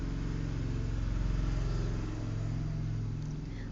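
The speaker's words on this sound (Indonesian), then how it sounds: "Maaf ya banyak seliweran motor." Motor traffic, with motorbikes passing close by on a street: a steady, loud engine drone and rumble that carries through the whole stretch, with no talking over it.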